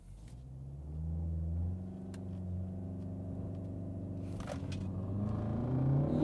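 A 2021 BMW 330i xDrive and a Dodge Charger Hemi 5.7 launch side by side in a drag race, engines droning in a steady low rumble that rises in pitch as they accelerate, moderately loud and without talk.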